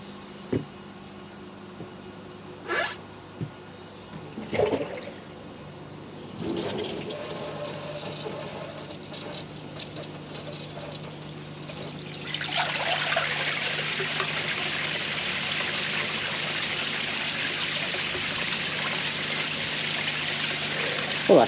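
Koi pond pump powered up and running, feeding a chrome bakki shower, with a steady broadband rush of flowing water after a few clunks, growing louder and continuous as the pump speed rises.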